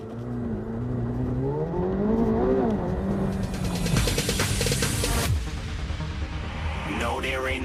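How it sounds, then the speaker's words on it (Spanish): Supercar in launch mode building boost, an engine revving and rising in pitch as it accelerates, then a sharp whooshing release and a new climb, with a voice speaking over it. "Le empezamos a acelerar y está Building Boost."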